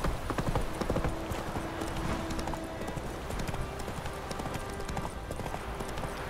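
Horse hooves clip-clop steadily while riding in The Witcher 3 video game, a rapid rhythmic gait that carries on through the whole stretch at moderate volume, with faint background game ambience.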